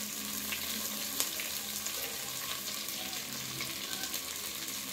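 Garlic and ginger sizzle steadily in hot oil in a pan, a dense, even frying hiss that carries on without a break, with one faint clink partway through.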